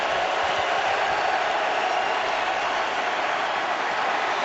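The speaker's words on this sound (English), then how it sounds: "Crowd into it on 3rd and 8" Football stadium crowd at a Saints at Buccaneers NFL game roaring steadily on a third-and-eight play, a dense, sustained wall of cheering with no break.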